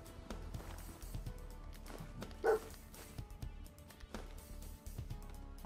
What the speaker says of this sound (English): Why do you bark?